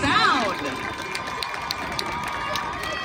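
A crowd cheers and applauds for a high school marching band at a stadium, a broad continuous roar with scattered shouts and whistles, plus some talking.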